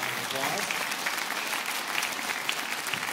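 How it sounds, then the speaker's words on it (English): Audience at a high school jazz concert clapping for a trumpet instrument maker, a full sustained round of applause with scattered sharper claps and faint crowd voices underneath. "So give Chagrel Instruments a round of applause."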